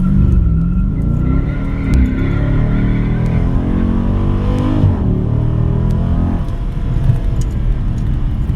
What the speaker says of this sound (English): Hard on the brake. We'll give it the full accelerator, and let's go.